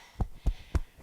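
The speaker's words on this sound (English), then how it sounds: "That heartbeat." Three deep heartbeat thumps, evenly spaced and close, each a low muffled pulse, with a faint trailing fourth beat.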